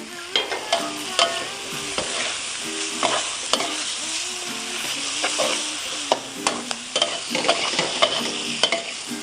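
Drunken noodles (pad kee mao) are stir-fried in a hot pan with basil, Thai ginseng and peppercorn. A steady loud sizzle runs throughout, with repeated scraping and clanking as the spatula tosses the noodles, and nobody speaks.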